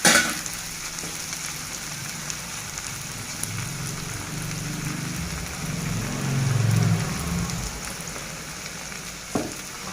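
Okra (bendakayi) fries in oil in a pan with a steady, dense sizzle and crackle, close and fairly loud. The frying swells briefly toward the end, with no voices.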